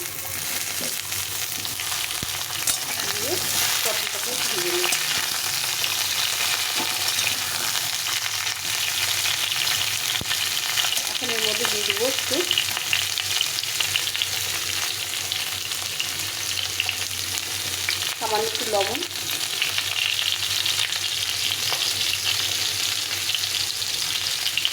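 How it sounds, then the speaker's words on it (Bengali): Pointed gourd pieces are added to fried potatoes in hot oil in a pan, giving a steady, close sizzle that runs throughout, with a few faint chirpy tones rising briefly above it. "এখন আমি এর মধ্যে এই পটলটা দিয়ে দেবো পটলটা ভাজতে সময় লাগবে না"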